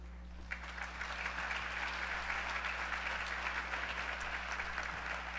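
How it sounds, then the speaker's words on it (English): Applause rises for a speaker at a breakfast event, a broad soft patter of many hands clapping at a distance, steady throughout over a constant low hum in the room. "Thank you very much for your kind applause."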